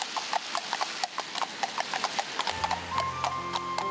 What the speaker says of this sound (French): 말발굽 소리가 경쾌하다.